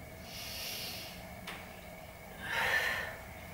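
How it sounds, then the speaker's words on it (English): Slow, deliberate breathing during a yoga exercise: a long, airy exhale, a short pause, then another audible breath, close and fairly soft. "Focus on your breath."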